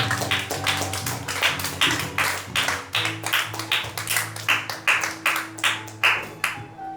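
Church congregation clapping for Jesus at a worship service, steady rhythmic handclaps close and loud, repeating about twice a second over a sustained low musical drone, with no cheering voices standing out.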